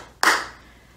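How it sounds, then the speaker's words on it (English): A single sharp hand clap, close and crisp, followed by a short decay, keeping time with a children's song. "If you're happy and you know it, clap your hands."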